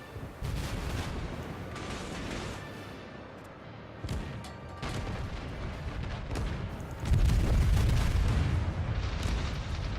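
In World of Warships, a warship launches torpedoes amid steady naval gunfire, with dull booms and a heavier roar building near the end.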